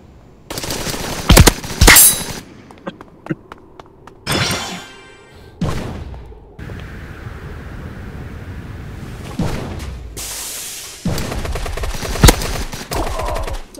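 An Uzi submachine gun fires in a battle royale video game, with several loud rapid bursts separated by pauses and heavy thuds between them, all close and punchy.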